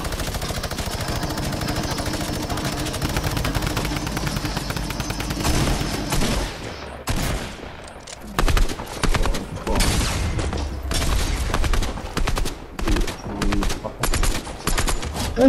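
Gunfire in a Fortnite match: a continuous loud volley of rapid shots at first, then breaking into separate bursts and clusters of shots in an irregular rhythm, close and sharp.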